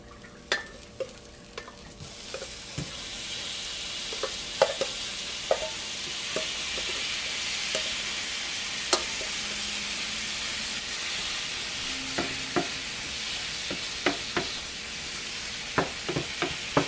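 Shrimp fry in a hot pan with a steady, close hiss and sizzle that swells after a couple of seconds, punctuated by scattered clicks and taps of a utensil stirring, with no voices.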